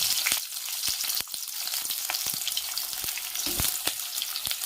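Fennel seeds, cloves, cinnamon and onion sizzle in hot oil for a country chicken fry, giving a loud, steady frying hiss with frequent sharp crackles and pops close by and no voices.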